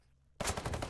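Video game gunfire erupting suddenly after a near-silent moment, a rapid burst of automatic fire rattling on loudly for the remaining half second.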